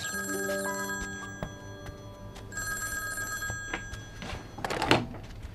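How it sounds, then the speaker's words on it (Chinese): A telephone bell rings loudly indoors in repeated bursts over a quiet room, followed by a thud and rustling as it is picked up. "我接个电话啊。"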